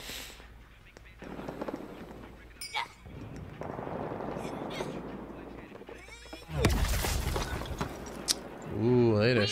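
Gunshots in the Suicide Squad: Kill the Justice League game trailer: scattered sharp reports and bursts amid loud action effects, sounding under trailer dialogue and voices.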